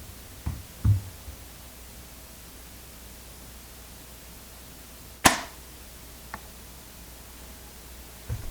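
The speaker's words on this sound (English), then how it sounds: "we're going to take a few shots here, actually 3 shots, and see how we do at 82 yards" A PSE Omen bow releases with a soft thump, then after a long pause a single sharp crack of the arrow striking a 3D target 82 yards away, with a fainter knock following, all over quiet outdoor hiss.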